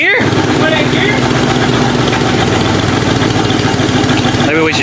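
An old Jeep engine, left sitting for 25 years, idles steadily on its own with a continuous low rumble and rattle, close by, with people talking over it.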